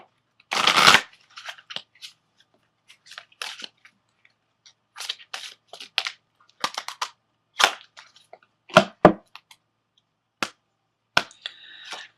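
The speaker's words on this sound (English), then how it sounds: "I'm going to pull an Ascended Masters card for you" Close, dry flicks and riffles come from an Ascended Masters oracle deck being shuffled and a card being pulled, in a sharp opening burst followed by scattered short snaps and slides in a quiet room, with no voices.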